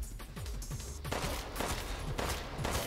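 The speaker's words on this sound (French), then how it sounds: "Alors là j'utilise le petit pistolet" Small pistol gunshots in Resident Evil Village, a rapid series of sharp cracking shots repeating at short intervals amid dense, noisy game action.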